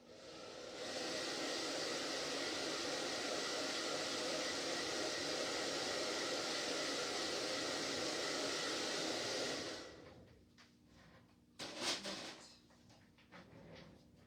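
A hair dryer blows steadily on a pumpkin cup craft, a loud continuous rushing whoosh for about nine seconds before it switches off, followed by a few light handling knocks.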